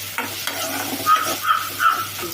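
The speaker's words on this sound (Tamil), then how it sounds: "கருவேப்பிலை, இதை இப்போ நல்லா வதக்கணும்." Curry leaves sauté in a pan with a moderate sizzle broken by stirring scrapes and a few sharper crackling bursts, fairly close and with no voices.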